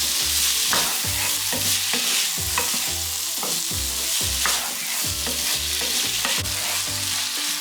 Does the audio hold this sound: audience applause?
no